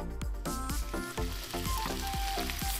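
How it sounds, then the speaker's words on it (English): Dough fries in a pan with a steady sizzle under a bright, plucked musical melody that continues throughout. "Moving on to frying."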